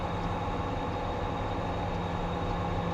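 An SD60M diesel locomotive throttles up on Sherman Hill in a train simulator game, giving a steady, loud engine drone and rail rumble that holds level throughout with no talk.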